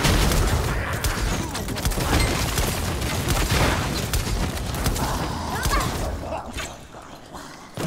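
Gunfire from combat in the Lost Ark video game, a dense, continuous barrage of shots and thumps mixed with game effects and talk, holding steady and loud before easing slightly near the end.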